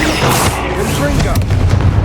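The Confringo explosive spell in the video game Hogwarts Legacy lands as a loud, booming blast followed by rumbling game noise and a few further thuds.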